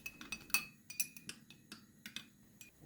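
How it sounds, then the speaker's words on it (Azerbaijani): A spoon stirs a teaspoon of yeast into warm water in a glass, making quick, light clinks and taps against the sides, close and quiet, with no talk. "Ardından biraz ilıq su götürürəm və üzərinə 1 çay qaşığı mayanı əlavə edib azca qarışdırıram"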